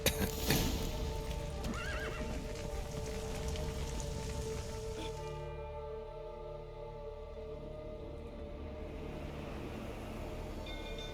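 Horses in the video game The Witcher 3: Wild Hunt neigh and whinny with clip-clopping hooves over a patter of rain, the horse calls clustered early then fading, leaving hooves and rain under a soft tonal background.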